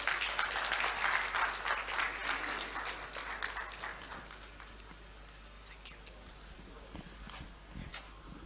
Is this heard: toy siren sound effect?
no